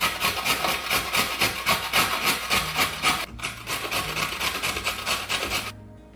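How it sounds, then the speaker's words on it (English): A large peeled, washed carrot is rubbed against a grater for carrot and sunflower seed bread, making a loud, close, rhythmic rasping of quick repeated strokes that stops abruptly near the end, with no talking. "I like to grate the carrot that's gonna go in this carrot bread"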